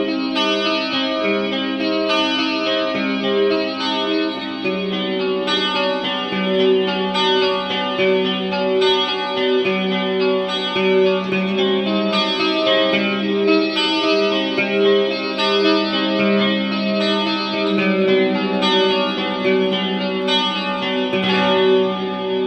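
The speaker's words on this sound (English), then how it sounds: "I have this one set on Roman numeral 4, which is kind of an ethereal style reverb setting, kind of a plate reverb in my opinion." Electric guitar through a Mooer 001 Gas Station preamp pedal with an ethereal plate-style reverb, sustained chiming chords and ringing notes washing into a long, cave-like tail, played alone and loud for over twenty seconds.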